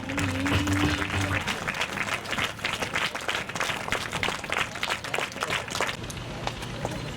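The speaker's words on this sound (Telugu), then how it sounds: "గట్టిగా చప్పట్లు కొట్టాలి." An audience at a school event claps loudly and steadily, a sustained roar of many hands with scattered crowd noise and a brief tone near the start.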